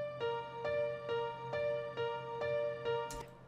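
A Nexus Pop Keys piano repeats the same short chord pattern over and over in a steady, even rhythm, played quietly and alone.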